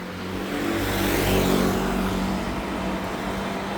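A car passes along a village road in rural southern Taiwan, its engine and tire noise swelling as it nears, peaking mid-way, then fading off into steady background traffic.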